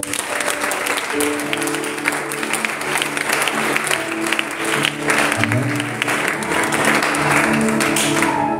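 A church congregation applauds at a worship service, sustained dense clapping from many hands that stays loud and continuous throughout.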